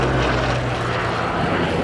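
Propeller-driven warplane, a Spitfire at an air show on the coast, droning loudly and steadily overhead with a continuous deep engine roar throughout.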